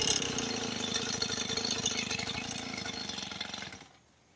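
A small dirt bike engine runs with a steady rattling chug, then sputters out and goes silent near the end as the choke shuts it down.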